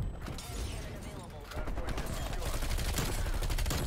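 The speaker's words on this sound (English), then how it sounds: "Who's shooting me from the left?" Gunfire from a Bullfrog class setup in a video game comes as dense, rapid automatic bursts that grow louder and run continuously, with a voice speaking over them.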